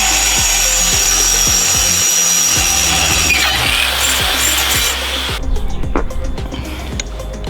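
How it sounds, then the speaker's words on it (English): A power drill bores a 5mm hole, enlarging an earlier 2.5mm pilot, while fitting parts for a WRC-style exhaust on a Ford Fiesta ST180 track build; steady loud grinding with rhythmic pulses, easing off near the end. "Time to drill this one, boy."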